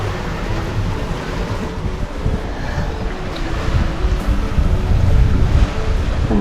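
A sailing yacht cruising at about 5 knots in light wind off New Zealand, with a steady wash of water along the hull and a rushing wind buffeting the microphone throughout, growing slightly louder toward the end and with no voices.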